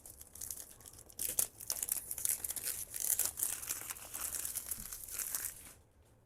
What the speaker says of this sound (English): So let's unbox this.